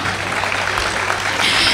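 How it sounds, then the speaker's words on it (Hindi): Audience clapping at a college poetry gathering (kavi sammelan) at Kirori Mal College, a steady wash of applause throughout that swells louder near the end. "और तालियां बजाने में आप लोग कंजूसी मत करिएगा"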